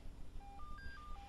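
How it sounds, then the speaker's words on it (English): A mobile phone rings on a film set with a short series of clear electronic tones stepping up and down in pitch, fairly faint over a room murmur. "Whose phone is that?"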